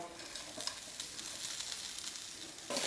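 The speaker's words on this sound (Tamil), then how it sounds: "தேங்காய் சேர்த்து 1 நிமிஷம் நல்லா வதக்கி விட்டுருங்க" Grated coconut sautéing in a pan of mutton kulambu, a steady soft sizzle with light stirring scrapes, brief and close, swelling louder at the very end, no talking.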